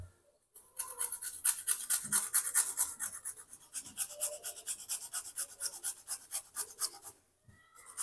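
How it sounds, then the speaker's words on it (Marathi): Raw beetroot is rubbed by hand over a kitchen grater. The fast, rhythmic scraping strokes are close and fairly quiet, and they keep a steady back-and-forth pace for several seconds with no talk. "ह्याच्यावरती आपल्याला बीटरूट किसून टाकायचं आहे"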